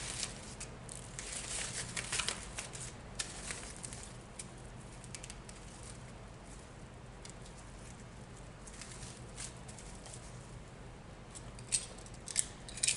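A cutter snips and scrapes through the insulated nylon covering of a service cable while building a 200 amp weatherhead, giving a steady close rustling and crackling texture dotted with sharper clicks, without speech.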